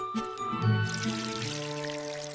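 Water pours onto garden plants at a farm, a soft trickle and splash with faint clinks near the start, fairly quiet and close.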